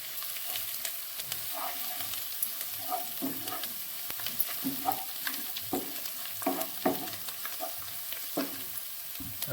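Butter chicken masala with coriander and kasuri methi stirred in a pan, a continuous low sizzle under repeated scraping and clinking strokes of a spoon, close and steady throughout with no talking.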